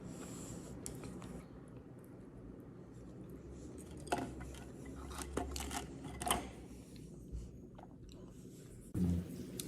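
Someone eats a creamy sushi roll up close, making soft, wet chewing and mouth sounds over a low background hum, with a few small clinks of handling near the end.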